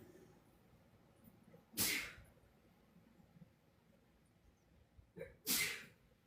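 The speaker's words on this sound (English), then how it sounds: "He sneezes like a million times, one after the next." Two sharp sneezes a few seconds apart, each preceded by a quick intake of breath, against a quiet room background.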